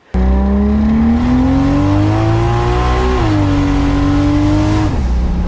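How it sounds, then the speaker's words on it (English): A loud, smooth inline-six engine revs up steadily, holds briefly, then climbs again before dropping off, heard close with no talking. "I prefer the sound of an inline 6 very, very much over the sound of a V8"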